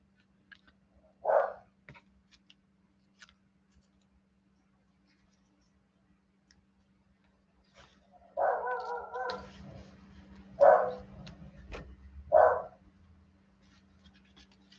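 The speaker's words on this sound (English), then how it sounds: "you probably hear my two beagles barking in the background here." Several beagle barks from two dogs spaced out over the clip, one early and a cluster of loud barks later, slightly distant in a quiet room with a low hum.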